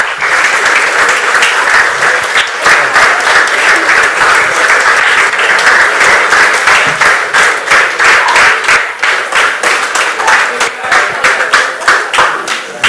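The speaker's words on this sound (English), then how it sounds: "Thank you for the loud applause." Loud audience applause at an awards ceremony, dense rapid clapping from a large crowd that holds steady and close for over twelve seconds before thinning slightly near the end.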